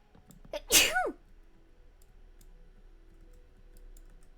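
A single loud, close human sneeze bursts out with a sharp rising then falling tone, followed by quiet light keyboard typing and soft clicks in the background.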